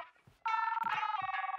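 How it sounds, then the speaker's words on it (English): A phone rings in a children's TV show, a bright electronic trilling ring that starts abruptly after a moment of quiet and continues in a steady warbling pattern, fairly faint, with no voices. "It's your phone."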